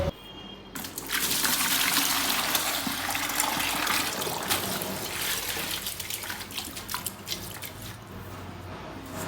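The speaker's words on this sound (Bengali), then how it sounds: "শাকটা আমি বেশি করে জল দিয়ে ধুয়ে তুলে নিচ্ছি" Water splashes and pours steadily in a bucket as red amaranth greens are rinsed by hand, a continuous close wash with small drips near the end.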